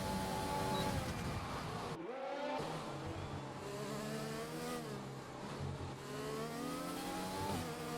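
Race cars in a Formula 1 video game at the Mexico circuit drone and whine continuously as they overtake, with engine pitch rising and falling in layered tones, steady and fairly quiet, and no talk.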